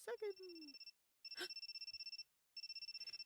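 A telephone rings in the game Amnesia: Memories with three quick bursts of rapid electronic trilling separated by short pauses, preceded by a brief chime-like voice sound.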